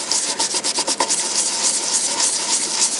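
An old coin being brushed with a mild abrasive paste, close dry scrubbing strokes in a quick rhythm at first that blend into a continuous rubbing hiss, alone without talk.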